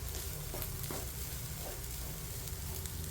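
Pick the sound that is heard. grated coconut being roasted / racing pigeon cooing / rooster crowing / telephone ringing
grated coconut being roasted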